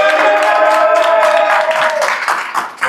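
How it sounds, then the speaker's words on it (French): Studio audience clapping to welcome the next participant on a dating game show, steady close applause that loosens and tapers off near the end. "applaudissez-le s'il vous plaît."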